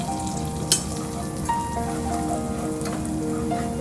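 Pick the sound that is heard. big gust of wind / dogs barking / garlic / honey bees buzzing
garlic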